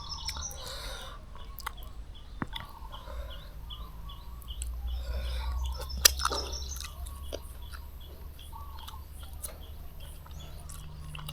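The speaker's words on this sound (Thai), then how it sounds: "ฟังเสียงนกเสียงไก่ห้องพี่น้อง" Birds chirp and chickens cluck faintly in the distance at the edge of a forest in the morning, scattered calls over a quiet outdoor background with occasional soft clicks and knocks.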